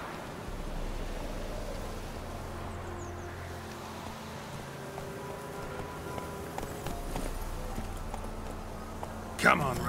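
Hooves of the horse Roach galloping in The Witcher 3, a steady rhythmic clip-clop under low ambient game music, with a brief louder thump near the end.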